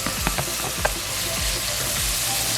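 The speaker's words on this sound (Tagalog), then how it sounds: "isasaute lang natin yung garlic" Garlic being sautéed in a pan for Filipino chicken afritada: a dense, close sizzle of hot oil with a few sharp clicks of stirring, steady throughout.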